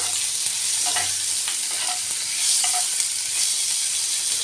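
Masala paste ingredients sautéing in oil give a continuous close sizzle, with a spatula scraping and stirring in short repeated strokes; no voices.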